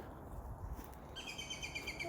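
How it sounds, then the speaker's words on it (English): Small birds chirp outdoors in a steady series of high, thin calls that start partway through, heard over a low background of wind and footsteps on a walk. "I think those birds just told me straight on"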